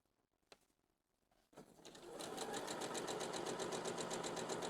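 Sewing machine stitching a bias-cut fabric top, starting after a few faint clicks and then settling into a steady rapid mechanical whir that runs to the end, close and alone.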